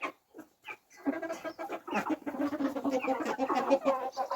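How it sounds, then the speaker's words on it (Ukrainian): Several chickens cluck and murmur close by, a busy overlapping chorus of short clucks that starts sparse and builds into steady chatter. "Ось такі в мене кури."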